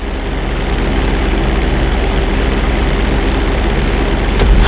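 Airplane engine in GTA 5 during a flight school emergency landing approach toward a bridge, a steady loud droning hum that holds evenly throughout, with a brief thump near the end.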